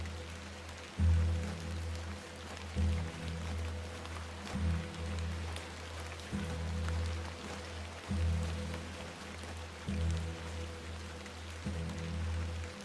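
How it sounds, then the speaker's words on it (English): Rain falling in the video game Alterlife, a steady hiss layered over a low rumbling music or ambience bed that swells in regular pulses, with no talk. "Let's get out of the rain."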